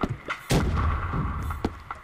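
Grenade blasts in the shooter video game Recoil, a loud boom with rumbling tail followed by several sharper bangs of gunfire close by.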